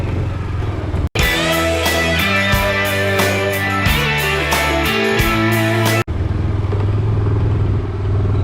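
Motorcycle engine running on a ride through Bangalore streets, loud and close with a steady throbbing drone that shifts in pitch as the rider works the throttle and gears, between two abrupt cuts.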